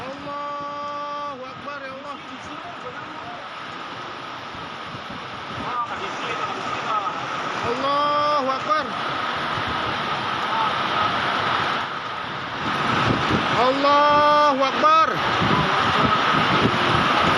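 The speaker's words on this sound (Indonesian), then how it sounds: "Kencangnya angin membuat pohon tumbang dan merusak sejumlah fasilitas umum" A strong whirlwind tears through a residential area of Sumedang, its loud, gusty roar continuous throughout while people repeatedly shout religious exclamations over it.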